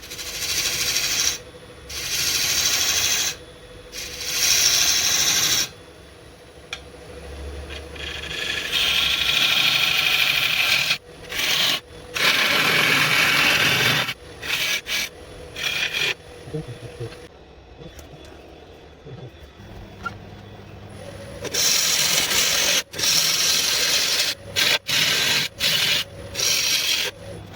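A wood lathe turns an oak platter filled with metal powder at about 800 RPM, with loud bursts of abrasive rubbing and whirring that stop and start many times over a low motor hum.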